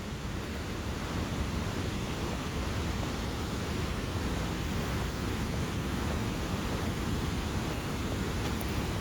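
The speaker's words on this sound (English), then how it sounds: "And this is the spillway for the continuing water while the lock is in operation." Steady rush of water pouring over the spillway beside Erie Canal Lock 2 at Waterford, NY, a dense, continuous roar with wind buffeting the microphone throughout.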